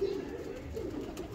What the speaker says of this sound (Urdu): چیک کرو ذرا کبوتر ماشاء اللہ